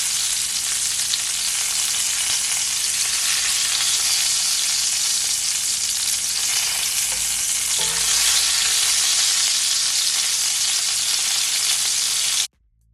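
Garlic butter lamb chops frying in a pan, a steady close hiss and crackle of sizzling fat that continues evenly for about twelve seconds before cutting off abruptly.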